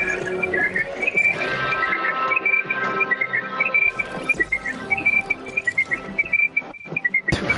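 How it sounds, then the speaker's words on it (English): A person whistles a wandering melody in the background of a voice chat during a Fortnite session, the tune steady and fairly loud across the whole stretch, with no talk over it. "Who's whistling in the background?"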